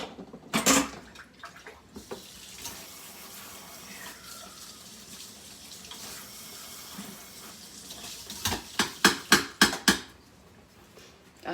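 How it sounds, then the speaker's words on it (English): Metal tongs rinsed in a bowl of soapy water in a kitchen sink, with running tap water splashing and sloshing throughout, and a quick cluster of louder clanks and splashes near the end. "I'm gonna rinse off my tongs"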